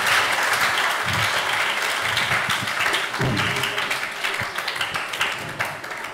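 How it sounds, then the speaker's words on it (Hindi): A classroom of students applauds two of their classmates, broad steady clapping that stays strong and slowly thins toward the end. "जोरदार तालियां हो जाए दोनों बच्चों के लिए"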